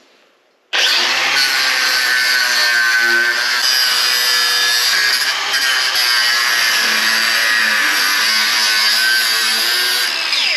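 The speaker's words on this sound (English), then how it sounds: "We're gonna grind that off" An angle grinder cuts off a hydraulic jack bracket, starting abruptly after a short silence and then running in a loud, steady, harsh metallic whine close by until the end, with no pauses.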